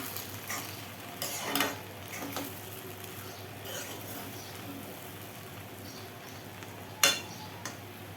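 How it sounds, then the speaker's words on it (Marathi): Susla, a Karnataka puffed-rice dish, is stirred in a pan with a faint sizzle, soft scraping and a few sharper utensil clinks against the metal, quiet and close. "मस्त मिक्स करून घ्यायचं"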